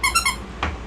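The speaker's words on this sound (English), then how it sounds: "Buy a bag of 100 squeakies, because she's going to chew through every single one of these." Three quick, shrill squeaks from a squeaky toy being chewed by a dog, followed by a softer squeak and then quiet, close by and with no talking.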